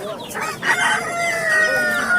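A rooster crows loudly and close by at a poultry market in Andijan, one long drawn-out call with a few clucks from nearby fowl.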